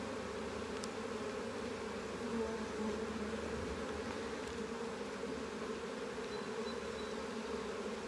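Honeybees crawl over a capped brood frame during a hive inspection, a steady, low droning hum held evenly throughout, close and moderately quiet with no voices.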